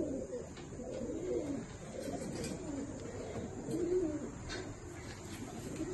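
Malwai pigeons in a loft in the USA give a continuous low cooing chorus, several birds overlapping nearby at moderate volume over a steady hiss.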